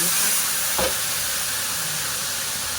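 Fermented soybean paste is stir-fried in oil with garlic, giving a continuous dense sizzle with a brief scraping stir near the start, close and fairly loud, with no voices.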